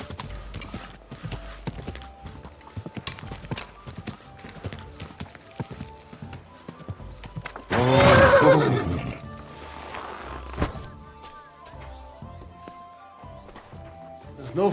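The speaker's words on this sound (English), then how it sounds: "Easy, good horse." A horse in the video game Kingdom Come: Deliverance 2 clip-clops along on its hooves, then gives one loud whinny near the middle, and steady hoofbeats follow.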